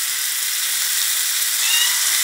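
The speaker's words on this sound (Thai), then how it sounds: "แล้วก็ผัดทุกอย่างให้เข้ากันนะคะ" Chicken with roasted bamboo shoots, chili and garlic stir-frying in a hot pan, a loud, dense and continuous sizzling hiss heard close up with no other sound.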